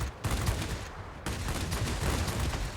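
Rapid, dense bursts of 15mm machine-gun fire from an Me-410 heavy fighter in World of Warplanes, loud and continuous with a short pause, an unbroken rattling fusillade.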